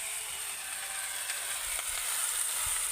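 Vegetables and fried lentil dumplings (bori) frying for Bengali shukto give a steady, close sizzle with occasional soft stirring scrapes, no voices.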